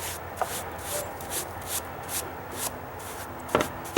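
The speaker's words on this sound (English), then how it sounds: "I'm just gonna take my knife or my chisel along there," An old wooden deck stair is scraped with a knife or chisel, giving soft repeated rasping strokes in an uneven rhythm, close and fairly faint, with a few sharper ticks.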